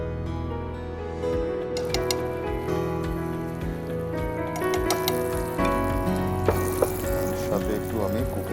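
Butter melting in a hot pan with a teaspoon of cooking oil over lowered heat, the start of lemon garlic chicken. A steady close crackling sizzle with scattered sharper pops runs throughout, beneath sustained tonal background sound.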